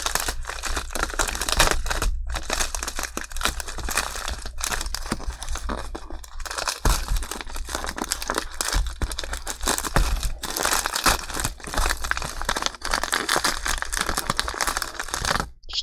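A thick, heavy flat rate mail envelope is torn and crumpled open at close range, with continuous crinkling, ripping and rustling of paper and plastic throughout, no talking.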